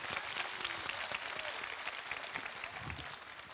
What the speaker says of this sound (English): Applaudissements s'il vous plaît pour Millie Alcock.